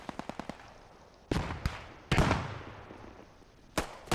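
Several grenade blasts go off in a World War II–style multiplayer shooter match, with a quick run of sharp pops at the start and then three loud, booming explosions with decaying tails, spaced across the moment.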